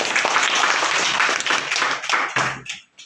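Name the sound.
audience applause at school magic show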